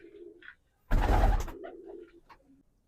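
Pigeons of a Fauji Butari fancy breed coo in soft low bursts, with one louder, fuller coo rising in the middle and fainter calls before and after, close by.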